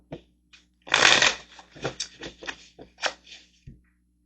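Tarot cards being shuffled by hand, a dense riffling burst followed by several shorter flicks and slaps of the deck, close and fairly loud, with no talking.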